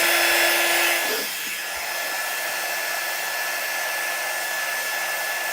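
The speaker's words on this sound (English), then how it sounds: "And I'm going to dry this real quick." A hair dryer blowing steadily at close range to dry a craft piece, one loud continuous whirring rush whose tone shifts after about a second, with no talk.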